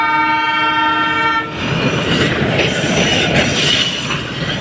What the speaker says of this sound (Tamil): இது இந்த ஊட்டி ட்ரெயின் மாதிரி சும்மா டீசல் லோகோ ட்ரெயின்